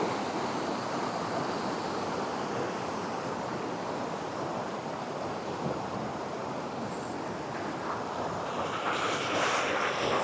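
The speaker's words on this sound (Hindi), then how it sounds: "अब देख सकते हैं पानी का बहाव।" Water rushes at a waterfall in Jharkhand, a broad, steady roar of flowing water with wind buffeting the microphone, constant and fairly loud throughout with no voices.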